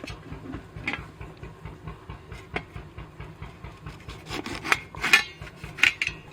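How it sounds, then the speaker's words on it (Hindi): A lemon being cut into small pieces with a knife for radish and chilli pickle, a rhythmic series of close, soft chopping taps and rubs with a few sharper cuts near the end, no talking. "नींबू का रस निकालने के लिए इस तरह से इसको छोटे छोटे पीसों में काट देंगे"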